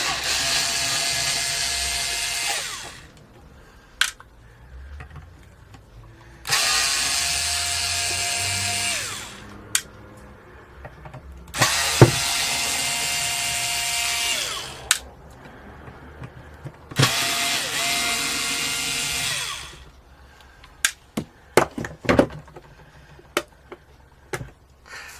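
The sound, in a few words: unscrewing the back cover of a Les Paul guitar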